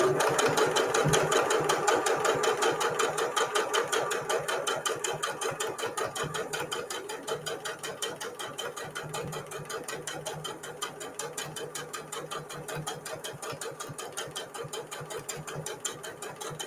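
A sewing machine stitches steadily around a gentle curve on a microwaveable mug cozy, its fast even needle clatter running nonstop up close with a slight slowing partway through.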